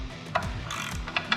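A torque wrench tightens a rod bearing cap on a 6.7 Cummins engine. A few close, sharp ratcheting clicks come in quick bursts over a quiet shop background.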